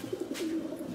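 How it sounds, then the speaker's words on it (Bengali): Racing pigeons held in baskets before a club race coo softly, a faint, low, wavering call close by, with no talk. "আমাদের কবুতরগুলো এখানে বাস্কেটিং করে রাখা হয়েছে।"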